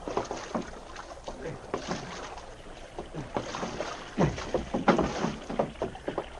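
A canoe paddled through water on a river in the Yukon, heard as repeated splashing dips and swishes with a soft wind background. Faint voices mix in.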